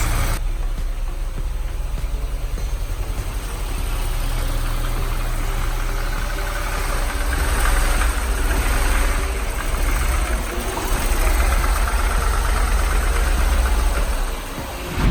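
A 2013 Audi S6, a rebuilt wrecked car, idles steadily right after its first start, a continuous near engine drone with a slightly knocking texture and no talk.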